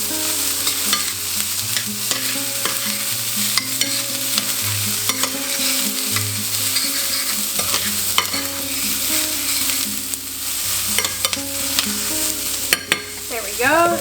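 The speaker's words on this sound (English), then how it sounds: "I want to add the mushrooms in here to just soften for a moment" Mushrooms and cabbage sautéing in coconut oil on a turned-down stove, a steady close sizzle broken by scraping stirs and tonal background hum, with one brief louder clatter near the end.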